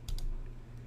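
A computer keyboard clicks twice in quick succession, close and crisp, with a fainter tap after; no voices.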